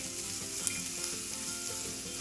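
Spices temper in hot oil for lime rice, giving a continuous close hiss of frying with faint stirring texture and no voices.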